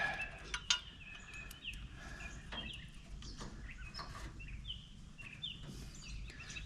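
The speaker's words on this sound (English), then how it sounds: "Boy, the birds are chirping today." Several birds chirp and trill at a distance over a low steady hum, with short repeated calls scattered throughout.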